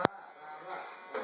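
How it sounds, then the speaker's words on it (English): A child's toy vacuum cleaner, fitted with a light, runs with a faint, steady electric buzz, opening on one sharp click. Soft voices are present in the background. "Are you vacuuming?"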